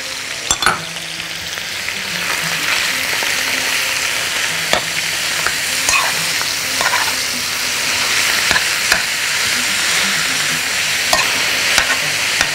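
Minced meat fries in hot oil with onion and spicy pepper, a loud, steady close sizzle broken by occasional stirring scrapes and clicks of a utensil against the pan.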